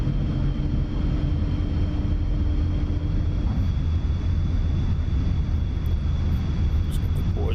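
Steady loud engine roar of a MiG-29 Fulcrum in the DCS flight simulator as flaps and landing gear are lowered, with a constant broadband drone and a low tone that fades partway through.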